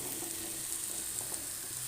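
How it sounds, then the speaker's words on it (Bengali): Kabuli chickpeas fry with spices in a pan for a chana paneer dish, giving a steady, soft, even sizzle with faint crackles and no talking. "বন্ধুরা, এবারে কিন্তু আমি এই কাবলি ছোলাগুলোকেও এখানে অ্যাড করে দেবো।"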